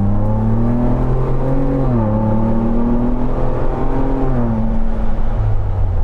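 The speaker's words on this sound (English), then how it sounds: "You can hear the turbos." Turbocharged engine of a 2021 Ford Bronco Sasquatch First Edition on 37-inch tires, accelerating from inside the cabin: a loud, steady drone with rising whine that dips between gear shifts, heard alone.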